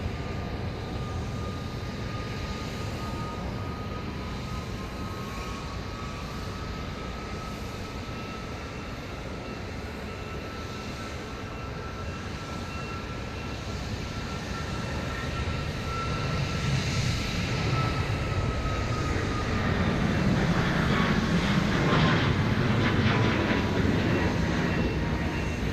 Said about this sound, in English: There goes the flight to Houston